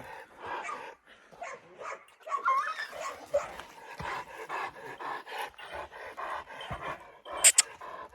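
A dog pants and snuffles close by, with scattered short barks and whimpers, ending in a sharp high yip.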